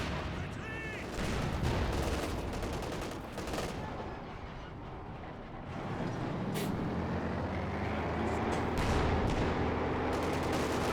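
MG42 machine gun fire in the Company of Heroes 2 strategy game, dense bursts of gunfire and battle noise forming a loud, continuous wash with sharp cracks on top.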